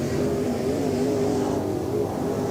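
Sportmod race cars roar around an off-road dirt speedway, engines loud and close with a steady revving drone as the pack charges through the opening lap.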